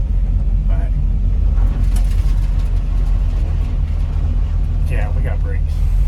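A 1981 Chevrolet C10 pickup with a misfire and an oil leak idles or creeps along in a steady low rumble, heard under someone talking.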